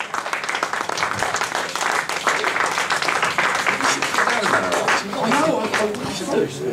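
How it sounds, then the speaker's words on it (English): Crowd at a Leytonstone blues jam applauds the guest artists, including a pianist, with dense continuous clapping mixed with voices and cheering throughout. "will you give them a huge round of applause"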